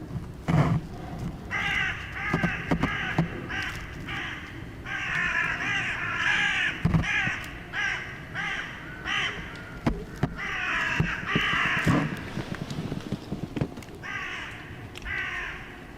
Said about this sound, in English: a sudden disturbance sets the forest's crows into a frenzy, cawing loudly as if alarmed by an unseen predator